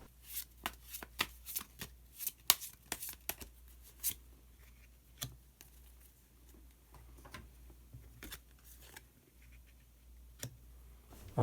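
Tarot cards being shuffled and drawn by hand: a close, steady run of soft papery flicks, slaps and taps that come in uneven bursts, with no talking.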